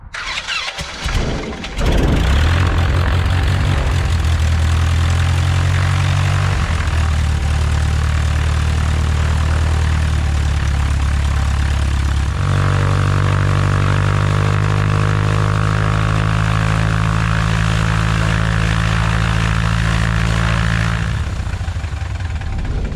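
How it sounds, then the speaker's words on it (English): A 1971 Cessna 150L's engine coughs to life and settles into a loud, steady run-up after an oil change, the propeller drone shifting pitch partway through before tapering near the end, close and alone without voices. "just a quick run up for warming up the new oil and see if you have any leak"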